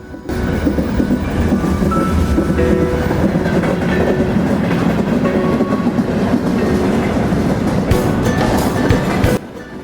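A train rumbles loudly and steadily nearby at Jammu Tawi railway station, wheels clattering over the rails, before the noise drops off abruptly near the end.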